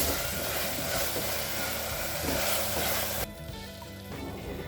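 Oil and spices for peas pulao fry in a pan, a loud dense sizzle that holds steady, then drops sharply to a softer crackle near the end, close and with no talking.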